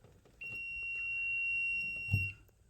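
Touchless voltage sensor held at a live wall outlet gives a steady, thin, high-pitched electronic beep lasting nearly two seconds before a soft knock, heard close and alone.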